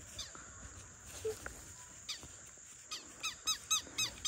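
Birds call faintly around a farm, with scattered short squeaky cries that grow a little more frequent toward the end, set against quiet outdoor ambience and no talking.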